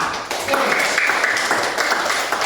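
A classroom of students claps together during an informatics lesson, a brisk burst of scattered hand claps that holds steady and fairly close before thinning out.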